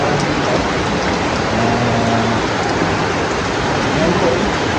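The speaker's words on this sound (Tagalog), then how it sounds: "Mga nakikita nyo sobrang lakas ng ulan dito." Heavy rain pours steadily in Bicol, a dense, loud, unbroken roar of downpour lasting the whole time, with faint tonal hums buried underneath.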